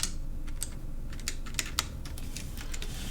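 Keys clack quickly on a computer keyboard, close and fairly quiet, in an irregular run of light taps with no voices.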